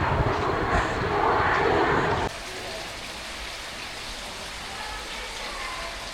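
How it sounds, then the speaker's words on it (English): An airplane comes in to land at the airport in Poznań, Poland, a loud broadband roar for about two seconds that then drops to a quieter, steady distant rumble. "See a plane coming in to land at the airport."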